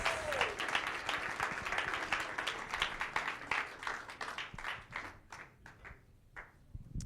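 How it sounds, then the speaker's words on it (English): Warm crowd applause greets a guest at a fireside chat event, many hands clapping steadily before thinning into scattered individual claps toward the end. "just give her a round of applause"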